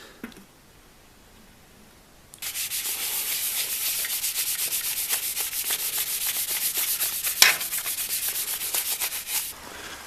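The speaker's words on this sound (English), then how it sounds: "I'm going to coat her in some oil and just, like rub her in" Oil being rubbed by hand into the freshly smoothed wooden stock of a restored 1910s pop gun: after a quiet start, a fast, even back-and-forth rubbing close up, with one sharper scrape near the end.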